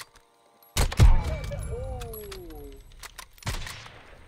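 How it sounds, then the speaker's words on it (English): Gunshots in an online multiplayer shooter: a sharp double report at the start and another crack near the end, with voices talking in between over faint in-game ambience. "You got the shot off just before me, John."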